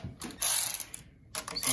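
Capped nuts being snugged down on carburetor studs of a Troy-Bilt 2410 snow thrower, with two short bursts of clicking ratchet-like mechanical turning separated by a pause, close and fairly loud.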